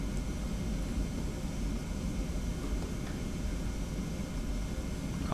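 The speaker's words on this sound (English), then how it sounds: "There is a plane landing." A Ryanair airliner lands in the Prepar3D flight simulator game, heard as a steady, dense engine and airflow roar that holds at an even level throughout, with no talking.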